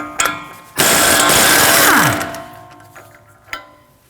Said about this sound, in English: Remove the axle nut with a 36mm socket.